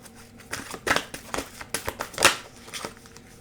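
Tarot cards are shuffled and drawn, giving soft papery flicks and crinkles in an uneven rhythm, with a few sharper snaps standing out, close and fairly quiet.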